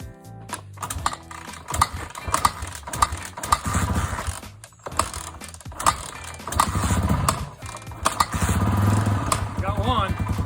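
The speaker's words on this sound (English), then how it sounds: "Which one of these really old guys can get their motorcycle going first?" An old Honda XR250 motorcycle barn find being started and revved, its engine sputtering and running loudly with mechanical clanks and thumps while people talk nearby.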